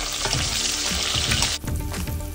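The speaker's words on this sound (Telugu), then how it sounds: "ఉల్లిపాయ ముక్కలు, పచ్చిమిర్చి, కరివేపాకు వేసి ఉల్లిపాయ ముక్కలు మంచిగా వేగే వరకు ఉంచాలి" Onion pieces, green chillies and curry leaves frying in oil, a loud close sizzle with crackling pops and stirring scrapes, briefly dropping in intensity partway through.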